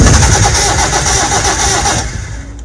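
A vehicle engine left unused for four months cranks and catches, a loud, dense rumble with churning mechanical texture that holds steady before cutting out abruptly near the end.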